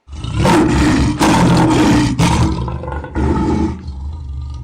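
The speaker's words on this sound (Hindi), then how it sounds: "उसने मदद के लिए खूब जोर से दहाड़ा" A lion roars loudly and close up in a retelling of the Panchatantra tale of the lion and the mouse, with several long, powerful bursts separated by short breaths and no talk.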